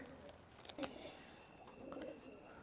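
A male pigeon of an old traditional breed coos faintly in a quiet room. Soft low murmurs come near the start and again toward the end, with a few light clicks in between.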